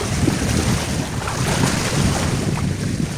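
Big sea waves in a storm off a small island, a steady loud roar of surf and wind rushing without pause, heavy wind buffeting on the microphone.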